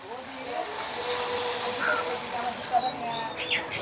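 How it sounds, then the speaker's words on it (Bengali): Water poured into a pan of spice-fried potatoes for a snakehead fish curry, a soft steady hiss and bubbling sizzle with faint scattered chirps, fairly close and moderate in level. "এখন জল দিয়ে দিচ্ছি"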